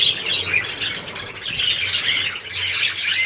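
Female and male budgerigars in an aviary keep up a dense, steady stream of high squawks and chirps, with no pauses across the whole stretch.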